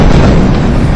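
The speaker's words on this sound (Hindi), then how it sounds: "देखिए एक के बाद एक बम धमाके वहां पर।" Bomb blasts during strikes on Israel, a single loud, close, rumbling low boom filling the whole moment with dense noise.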